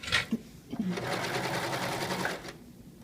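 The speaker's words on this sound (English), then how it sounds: "I stitch clear to the edge, and the machine goes so fast" A serger sewing machine runs fast while stitching a narrow rolled hem, a dense steady whir of about two seconds after a few short bumps, ending abruptly near the fabric edge.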